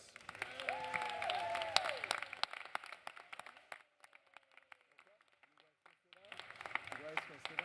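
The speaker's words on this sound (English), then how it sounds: "So please join me in a round of applause for our new students." Audience applause at a fall university convocation greets the new students, mixed with voices and cheering; it fades to near quiet midway, then swells again toward the end.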